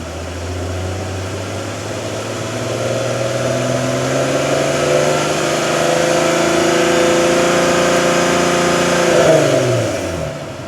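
A 2008 VW R32 with a deep custom exhaust revs slowly upward toward about 3,000 RPM, the drone rising steadily in pitch and loudness before easing off near the end.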